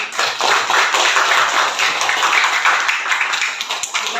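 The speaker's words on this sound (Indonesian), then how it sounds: "Tepuk tangan untuk anak-anak kelas 6." A class of sixth-grade children claps together in a classroom, a dense, steady burst of hand claps lasting several seconds without pause, fading slightly at the end.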